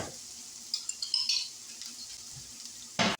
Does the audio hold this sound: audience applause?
no